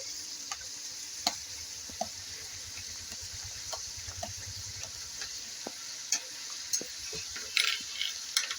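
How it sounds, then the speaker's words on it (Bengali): Mutton frying with ginger and garlic paste in a pan, a soft steady sizzle with scattered light clicks and taps of a stirring utensil, fairly quiet and close. "আদা বাটা রসুন বাটার সঙ্গে মাংসটা খানিক্ষণ কষিয়ে নেব"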